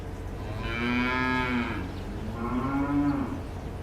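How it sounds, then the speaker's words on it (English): A cow moos twice, two long drawn-out lows of about a second each with a brief gap, heard at moderate distance over a steady low background hum. "I heard the moo."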